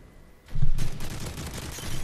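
Rapid video game gunfire bursts out after a quiet start and keeps going as a loud, dense fusillade to the end.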